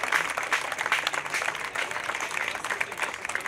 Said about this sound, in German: Jetzt hast du deinen Applaus schon bekommen